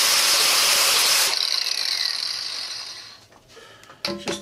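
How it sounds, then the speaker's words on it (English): Flap disc grinder stripping mill scale from a steel lift arm stabilizer mount on a tractor, a loud steady hissing grind for over a second, then a fading spin-down with a few faint scrapes near the end. "let's flap disc this thing first"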